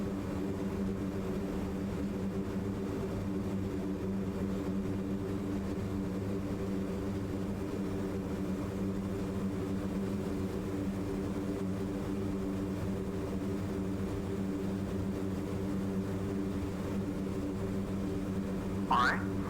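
C-130J Super Hercules turboprop engine spinning up in a flight simulator, a steady layered drone of harmonic hum that holds level throughout, with a brief rising whine near the end.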